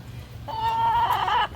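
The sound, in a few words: chicken caller toy imitating chicken clucks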